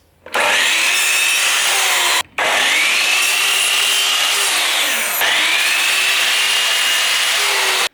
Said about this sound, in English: So make sure that you've got your miter saw set at 0 degrees. That's going to give you your straight cut.